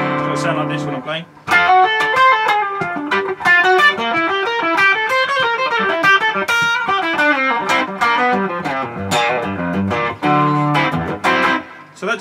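A distorted electric guitar plays a blues turnaround in E built on flowing arpeggios, loud and close with reverb and effects, ending on a few sustained notes.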